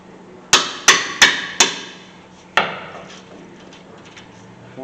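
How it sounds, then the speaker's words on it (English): Five sharp metallic hammer strikes on the brake caliper of a 2011 Ford F-150, four in quick succession and one after a short pause, each ringing briefly before fading. "Use a hammer, not your hand."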